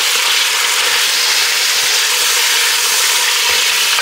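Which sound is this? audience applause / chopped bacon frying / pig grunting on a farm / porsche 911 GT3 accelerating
chopped bacon frying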